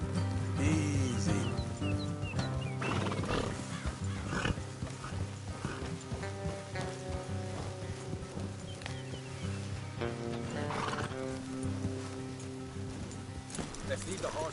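Horses in the Red Dead Redemption video game, hooves clip-clopping steadily along a road off toward cover, with occasional snorts, under game music and talk.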